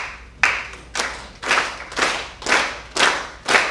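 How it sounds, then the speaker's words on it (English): An audience at a wellness talk claps in unison, about seven loud, evenly spaced bursts of many hands roughly every half second, each ringing briefly before the next. "So I'm just going to invite you to just start clapping."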